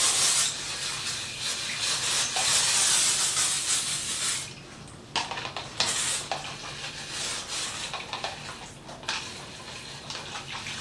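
A hand spray bottle mists potted hoya plants, producing repeated close hissy sprays and rustling, with a denser stretch of spraying followed by shorter bursts.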